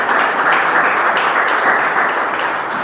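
A church congregation at an evangelical service claps in a broad, continuous wave of applause, full and sustained from start to finish, filling the room evenly.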